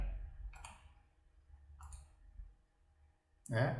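A computer mouse clicking the import button in Teorema accounting software: three sharp, quiet clicks spaced over a few seconds, with a louder burst of noise at the end.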